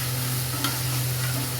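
Masala frying in mustard oil in a pan for tel potol, with a continuous crackling sizzle over a low steady hum and a brief stir partway through.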